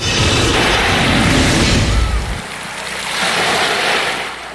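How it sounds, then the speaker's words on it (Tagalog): Sea waves crashing on the rocky shore of Marble Beach in Jagna, Bohol, a loud, close roar of surf that surges, recedes, then swells again, with wind buffeting the microphone and no voices. "Sa paghampas ng alon, tila nayayakap ng tubig ang mga bato sa Hagna, Bohol."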